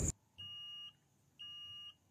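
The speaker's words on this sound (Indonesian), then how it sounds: "itu mah suara token" Two steady electronic beeps from a prepaid electricity token meter, each lasting about half a second, tonal and evenly spaced in a quiet room after a brief burst of noise at the start.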